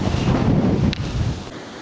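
Heavy sea wind buffets the microphone in a continuous, loud rumble on the Ilocos Norte coast, with waves washing underneath and no voices.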